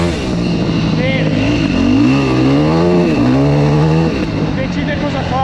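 A Yamaha WR 450 dirt bike engine revs hard up close, its loud throaty note rising and falling through several throttle blips over a steady rumbling idle.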